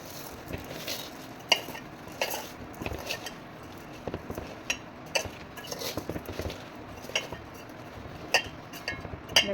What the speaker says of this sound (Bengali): এই আমের সাথে একটু ভালো করে মিশিয়ে নিতে হবে চিনিগুলোকে